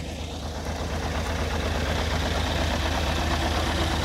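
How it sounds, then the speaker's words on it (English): The Euro 5 Scania engine of a 2012 Scania K440EB Berkhof Axial coach idles nearby, a loud, steady low rumble with a fine knocking texture and constant vibration, unbroken by any voices. "Euro 5 Scania engine, that's driven through a automated 12-speed Scania OptiCruise gearbox."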